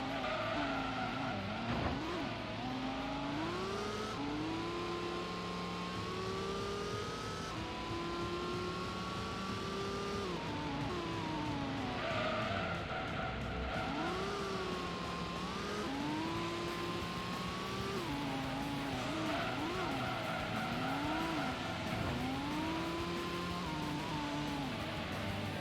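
Race car engine in Gran Turismo revving with rising and falling pitch while the tires slide and squeal through corners, loud and continuous for the whole stretch with no talking.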